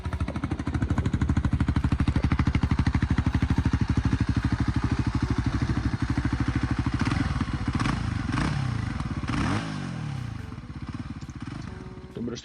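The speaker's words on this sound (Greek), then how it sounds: "Ο ήχος της εξάτμισης είναι ξεσκωτικός και σε κάθε άφημα του γκαζιού κάνει σκασίματα." A Voge 300 Rally motorcycle's exhaust drones loudly and steadily close by, then eases off as the throttle is released, with popping and crackling on the overrun and a voice talking over it.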